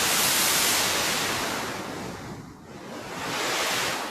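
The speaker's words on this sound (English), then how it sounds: "You can just turn on the noise oscillator." Broadband noise oscillator on an Akai MPC Live synthesizer, swelling and receding like ocean surf, loud and steady with a dip in the middle before rising again, no voices.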